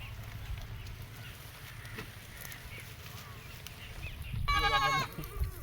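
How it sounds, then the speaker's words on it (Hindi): Goats graze outdoors in a breezy village field amid low rustling and wind noise, then one goat lets out a short, loud, wavering bleat near the end. "बकरियां चर रही है भाई"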